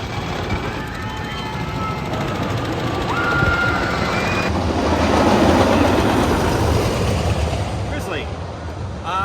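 A Grizzly wooden roller coaster train at California's Great America amusement park rumbles and clatters along its track, a loud continuous roar with rattling that swells and fades.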